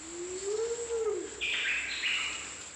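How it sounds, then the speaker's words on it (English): Call of the Manumea, the tooth-billed pigeon and national bird of Samoa, recorded in tropical rainforest: a single low, drawn-out hooting note that rises slightly and fades, followed by high insect-like chirring in the background. "This is an original audio recording of the Manumea's bird call."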